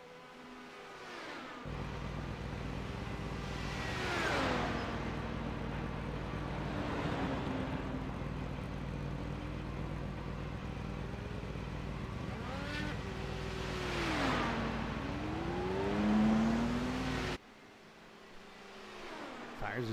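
An IndyCar-style race car at the Indianapolis 300 pulls away from a pit stop after tires and fuel, engine rising in pitch as it accelerates, over steady crowd and track noise with a commentator talking throughout.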